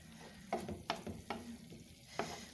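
Vegetables being stirred into a stuffing cooking in a pan, with a steady low sizzle and a few sharp scrapes and clatters of the spoon against the pan at irregular intervals, close by.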